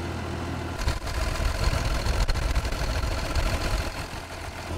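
An engine idles steadily up close with food warming on it, a continuous low rumble with no speech.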